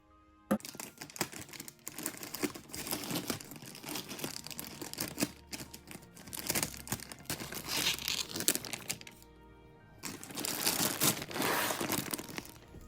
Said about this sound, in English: it looks like it's in a zipper container, so I'll continue to open it